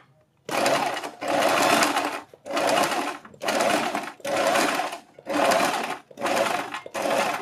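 An electric sewing machine stitching a suit or kurti neckline along buckram runs in eight loud, steady bursts, each lasting about half a second to a second, separated by short pauses, with no talk.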